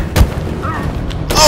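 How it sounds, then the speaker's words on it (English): Gunfire from Connor in the video game Detroit: Become Human: a sharp, heavy shot rings out early, with a second loud burst near the end over a steady background din. "Oh, Connor's shooting on his own?"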